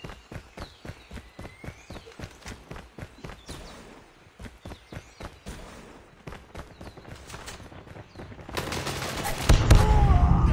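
Rapid bursts of gunfire in Call of Duty, a long run of evenly spaced sharp shots followed by denser, louder firing and explosive noise near the end, with no talk over it.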